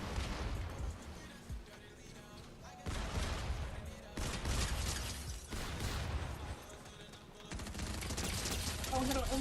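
Rapid bursts of gunfire in the video game Fortnite, loud and dense, coming in clustered volleys with brief gaps between them.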